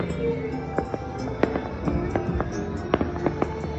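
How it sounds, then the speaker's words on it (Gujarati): Firecrackers burst in sharp, scattered cracks and pops against a constant crackling roar of distant fireworks all around during the Uttarayan festival. "આજુબાજુ બધે ફટાકડા ફૂટે છે ચારે દિશામાં"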